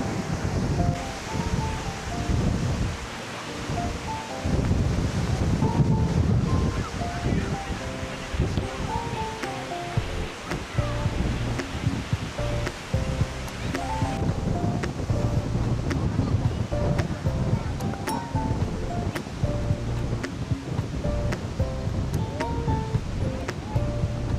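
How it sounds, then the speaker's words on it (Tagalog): Strong wind roars steadily across the microphone, mixed with rough crashing waves and water movement at Kinbrook Provincial Park, Alberta, loud and continuous throughout. "Ang lakas kasi ng hangin, tapos ang lakas ng alon."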